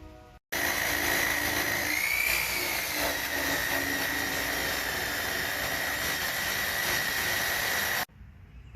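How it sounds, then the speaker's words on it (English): Electric buffer with a wool pad polishing a 2006 Ford Crown Victoria Police Interceptor headlight, a loud steady whirring drone that starts abruptly, runs about seven and a half seconds, then cuts off. "just give it a good coat, and then crank out your buffer"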